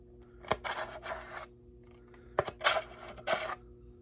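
Close scratching and scuffing on the edges of a prop before painting, three short bursts of rough scraping with quiet gaps between, each led by a small sharp tap.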